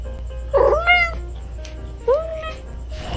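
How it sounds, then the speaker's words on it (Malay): Two distinct meows from a domestic cat, one near the start and another about two seconds later, each rising then falling in pitch, close and clear over a low steady background hum. "Bagi haiwan jinak pula seperti kucing,"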